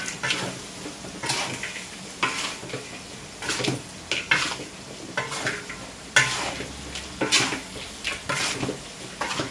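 Fruit pickle (acar buah) is stirred in a pan, with repeated rhythmic scraping and clanking of a utensil against metal over a soft sizzle.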